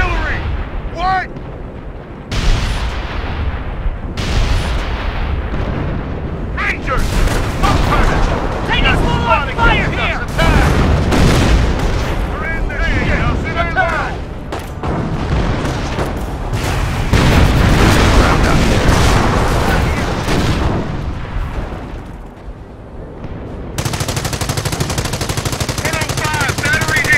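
Relentless artillery barrages, machine-gun bursts and booming explosions from a Company of Heroes battle of four players against four AI, loud and continuous with shifting intensity, while game voices call out over the din.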